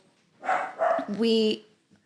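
Household dogs bark and yip a few times in quick succession, fairly close and moderately loud, briefly cutting across a conversation before fading out.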